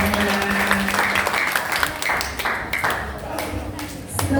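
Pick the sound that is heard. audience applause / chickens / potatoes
audience applause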